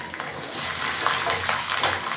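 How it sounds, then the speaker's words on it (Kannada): Peanuts fry in hot oil with green chillies and curry leaves for a gojjavalakki breakfast, giving a steady close sizzle with a few soft crackles and stirring scrapes. "ಕಡಲೆಬೀಜ ಚೆನ್ನಾಗಿ ಫ್ರೈ ಆಗಲಿ."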